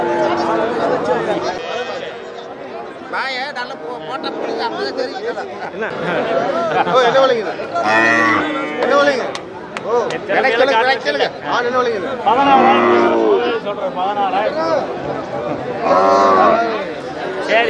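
Cattle at a busy village livestock market for Kangeyam bulls, with occasional lowing and animal sounds buried under constant close bargaining chatter from traders.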